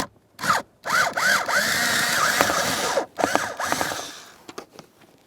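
Power driver with a T15 Torx bit backing out the mounting screws of the HVAC blower motor in a 2012-2015 Honda Civic, a close, loud whirring run of about two seconds after short bursts, with rising-falling pitch sweeps and a brief restart.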